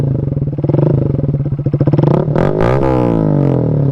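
A 2022 Honda Grom motorcycle fitted with a Vance and Hines Hooligan exhaust revs up loud and close, a throbbing single-cylinder burble climbing in pitch before settling back to a rough, steady idle.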